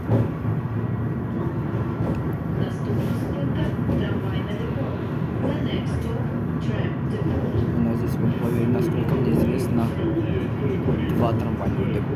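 Tram no. 1210 running on route 6, heard from inside as a continuous rumbling, rattling ride with steady wheel and motor noise throughout.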